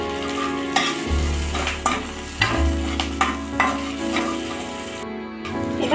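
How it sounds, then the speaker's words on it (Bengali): Ginger and green chili frying in a pan as they are stirred, giving a steady close sizzle with scraping knocks from the spoon throughout, no voices. "একটু নাড়াচাড়া করে নিয়ে আমি দিয়ে দেবো এর মধ্যে কাঁচা লঙ্কা।"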